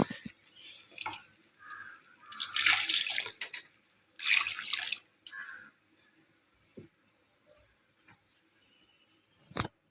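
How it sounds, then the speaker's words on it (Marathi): Water poured into a pot of drumstick (moringa pod) curry on the stove, heard as two distinct bursts of pouring and splashing, each lasting about a second, with faint clinks and a sharp knock at the end and no talking. "भाकरीबरोबर खाण्यासाठी पाणी ओतून घेते मी"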